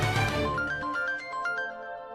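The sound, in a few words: phone ringtone, incoming call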